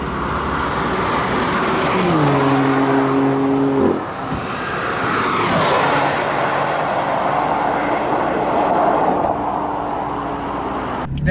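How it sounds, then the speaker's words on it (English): A 2015 BMW M3/M4 engine revs hard under acceleration while the automatic dual-clutch gearbox snaps through quick upshifts, the pitch climbing and dropping with each shift over steady road and wind noise. "this automatic dual clutch is phenomenal. I mean, it just rips shifts one after another"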